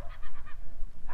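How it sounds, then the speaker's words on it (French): Seagulls call over a beach in Argentina, a quick series of raspy, honking cries close by over a rumble of wind and surf. "rien à part des mouettes"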